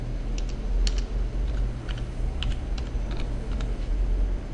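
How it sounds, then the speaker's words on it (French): A user name is typed on a computer keyboard, heard as a close, steady run of light clicking keystrokes at an irregular rhythm over a low hum, with no talking. "Et là vous tapez le nom de l'utilisateur, le nom du compte de l'utilisateur."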